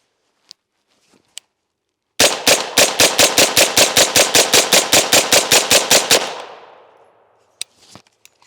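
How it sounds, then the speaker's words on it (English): Twenty 10mm jacketed hollow point pistol rounds are fired into soft body armor in a rapid, evenly spaced string of loud, sharp shots, with a few isolated clicks before and after. "we're gonna send 20 rounds and see if we can get one to go through"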